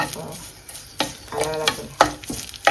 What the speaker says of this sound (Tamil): மிளகாய் பொரிஞ்சிட்டு கருவேப்பிலை கொஞ்சம் பொரியணும்.